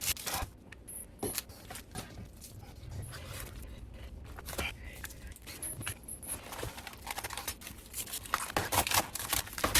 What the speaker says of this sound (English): now I'm going to go ahead and cut up this romaine